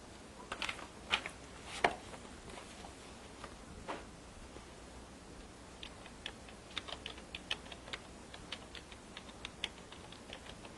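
Computer keyboard typing with irregular bursts of light, crisp key clicks, fairly quiet and close, with no talking.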